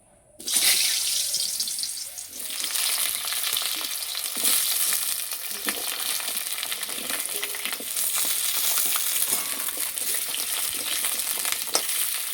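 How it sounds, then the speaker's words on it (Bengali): Potatoes fry in hot oil for an egg-and-potato curry with burnt spices, a steady loud sizzling hiss that starts abruptly and holds throughout with small crackles and stirring clinks, no talking. "তেল গরম হয়ে গেছে, আলু ভেজে নেব।"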